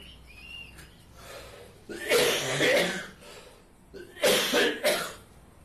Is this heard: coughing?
yes